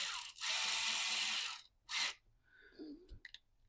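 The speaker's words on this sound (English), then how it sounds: "so I'm going to run a screw in here" A small screw is driven in at the nut of a guitar, with a sustained high whirring burst of about a second followed by a shorter second burst, then a few faint light clicks and taps, close and without talk.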